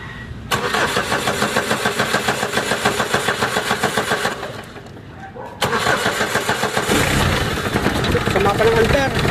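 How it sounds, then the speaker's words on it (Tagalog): A Mitsubishi Adventure with a rough starting problem cranks with a rapid rhythmic churn, catches briefly, then cranks again and runs unevenly, loud and close, with people talking nearby. "Sige, start mo nga, tingnan natin."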